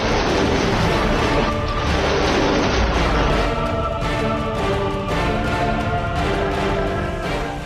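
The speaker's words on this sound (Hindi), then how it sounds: "ईरानी सेना ने अपने एयर डिफेंस मिसाइलों और रॉकेट लॉन्चर से बैटल ग्राउंड को थर्रा दिया।" Iranian military air defense missiles and rocket launchers firing on a battlefield, a continuous loud barrage of booms and roaring launches with no pauses.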